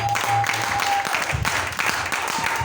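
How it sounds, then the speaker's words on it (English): A church congregation claps together in praise, a dense steady patter of many hands, loud and close, with a sustained organ or keyboard tone and a voice briefly rising underneath. "Give the mighty clap of praise to the Lord."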